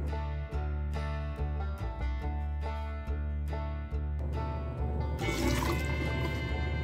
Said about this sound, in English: So that's 30 seconds of water running over it before I felt a single drop.